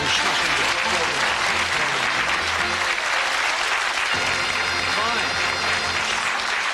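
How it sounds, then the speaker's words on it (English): Studio audience at the Bullseye game show in the UK breaks into loud, sustained applause, a dense, even wash of clapping that holds steady for the whole stretch. "Give them a nice warm round of applause."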